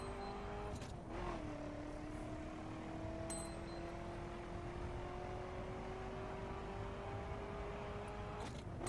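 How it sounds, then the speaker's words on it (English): A car engine in the racing video game The Crew, driving through Detroit, holds a smooth sustained drone that dips and then climbs slowly, with brief gear-shift blips, steady and alone. "Let's listen to the engine for a little bit."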